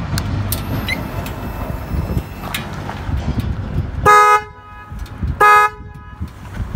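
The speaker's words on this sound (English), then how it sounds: "Now these horns have been installed in both the sides." Two loud, short blasts of a newly installed horn on a Harley-Davidson Fat Boy motorcycle close by, a few seconds apart, over a rumbling idling engine and background traffic.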